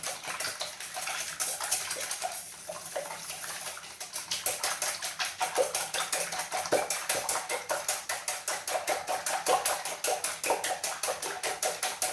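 Eggs for an omelette are whisked in a bowl, producing a fast, steady, close clatter of rapid regular strokes that grows sharper and more rhythmic partway through, with no talking.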